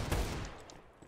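Gunfire in a tactical shooter on the Mirage map, aimed at a window: one loud, close shot at the start fading into a short decaying tail, no talking.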